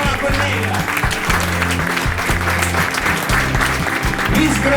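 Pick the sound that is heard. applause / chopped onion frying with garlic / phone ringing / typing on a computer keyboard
applause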